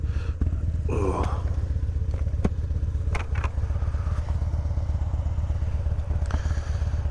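A Harley-Davidson Dyna Glide Street Bob on a winter ride, its engine a loud, steady low rumble close up with constant wind noise, occasional clatters and scrapes, and one brief spoken exclamation.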